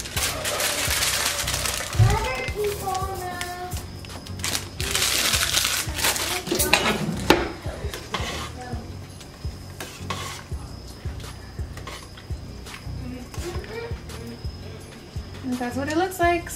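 Menudo with oregano stirred in a pot, bringing scraping spoon strokes, clinks against the pot and a sizzling bubble, while a person talks over much of it.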